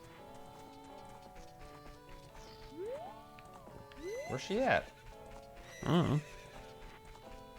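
Horses in The Legend of Zelda: Ocarina of Time whinny and neigh in bursts, with a clip-clop of hooves and game music under someone talking.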